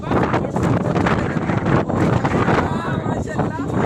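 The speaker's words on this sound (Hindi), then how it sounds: "कितनी प्यारी हवा चल रही है" Wind buffeting the microphone outdoors on a rooftop, a rough, gusty roar that rises and falls irregularly and stays loud throughout, with a voice talking underneath.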